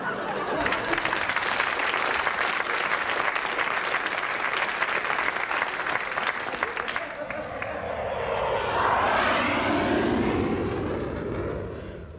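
A loud, steady airliner engine roar serves as a sound effect in a British radio comedy, then shifts into a sweeping whoosh as if passing overhead before trailing off.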